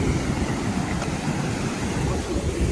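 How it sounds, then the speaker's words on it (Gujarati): A strong river or stream at the Galteswar Mahadev waterfall near Tampal during the monsoon, rushing over stones in a steady, loud, broadband roar with no let-up and no voices. "જોરદાર પાણીનો અવાજ આવતો હોય છે તમને"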